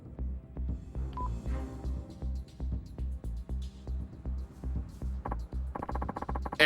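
Telephone keypad tones dialing in the Yakuza 5 video game, a quick run of beeps near the end over steady rhythmic background music.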